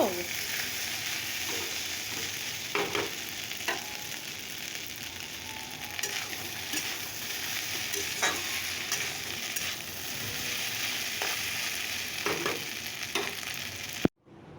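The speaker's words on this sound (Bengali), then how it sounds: "আলুটা ভেজে নিচ্ছি মাছের মাথাটা দিয়ে মুড়ি ঘন্ট হবে" Potatoes and fish head frying in a pan for muri ghonto, a continuous moderate sizzle with occasional stirring scrapes and clinks, ending in a sharp click.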